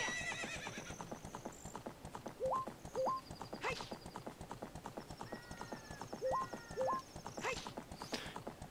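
Horse hooves clip-clop in a steady rhythmic trot in the Zelda game Ocarina of Time, with whinnies and short game chimes and tones over the top, fairly quiet overall.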